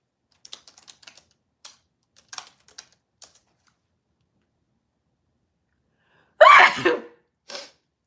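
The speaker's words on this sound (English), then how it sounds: "Oh my God, I've been waiting to sneeze for 2 hours." A few light keyboard-like taps, a pause, then one loud, close sneeze followed by a short breathy burst.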